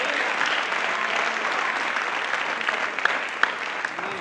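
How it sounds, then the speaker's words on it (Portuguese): Congregation applauding in a church, a dense, steady wash of many clapping hands at close range, continuous from start to finish with a few sharper claps near the end. "vamos dar uma salva de palmas"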